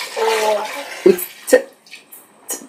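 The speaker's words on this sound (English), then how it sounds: "And then we're just going to add some water" Water poured into a blender with raw walnuts for alkaline walnut milk: a steady splashing pour for about a second, then a few sharp clinks and splashes, with faint talk nearby.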